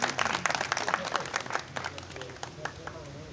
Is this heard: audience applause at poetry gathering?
yes